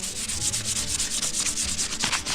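Steady sanding of a Jeep's front header panel during an ORV Jeep build, close and continuous with a rhythmic back-and-forth rubbing stroke, no voices.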